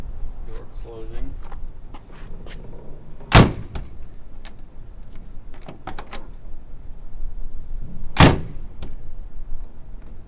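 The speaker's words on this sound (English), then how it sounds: "Door closing." The door of a 1959 Jaguar XK150 fixed-head coupe shuts twice, each a sharp, solid thud several seconds apart, with quieter handling sounds and faint talk between them.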